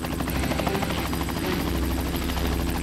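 Helicopter passing close overhead, a loud, steady rotor thrum and engine whine filling the whole clip with no voices.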